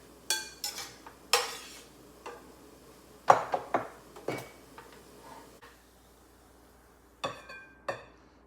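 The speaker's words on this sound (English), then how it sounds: "And we're just going to mix that up." Ground beef with garlic being stirred in a pan: a scattering of close metallic scrapes and clinks from the utensil against the pan, irregular and spaced out, with quieter stretches between and no talking.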